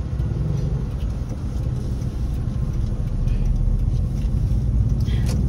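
Dense cars idling and rolling through a busy intersection give a constant low rumble of engines that swells slightly louder toward the end, with no voices standing out.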